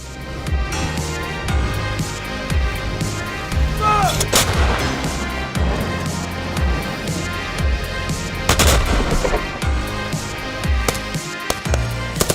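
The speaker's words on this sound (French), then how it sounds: "Canons César, chars, mortiers, hélicoptères et autres armes de guerre étaient déployés pour cet exercice exceptionnel." Heavy artillery fires repeatedly during a French military exercise in the Maurienne mountains, loud booming blasts with sharp cracks at intervals over a continuous rumble, some shots distant and some close.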